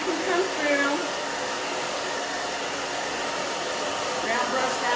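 A handheld hair dryer blows on short, naturally curly hair in a pixie cut, giving a continuous close, loud airy roar that holds steady for the whole stretch, with no talking over it.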